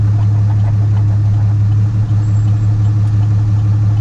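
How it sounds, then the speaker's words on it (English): Ram 2500 heavy duty pickup with a Cummins turbo diesel engine idling nearby, a loud steady low drone with a constant even clatter and no change in pace throughout. "this Ram 2500 heavy duty with the Cummins turbo diesel engine"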